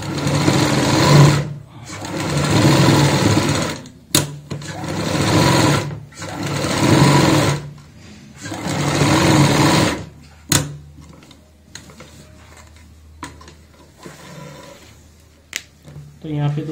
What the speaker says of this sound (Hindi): अब यहां पे भी हम सिलाई लगा लेंगे